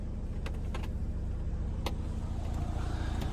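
The engine of a flood-damaged Pontiac Solstice, a car that was fully submerged, idles with a steady low rumble close by, and a few sharp clicks sound over it.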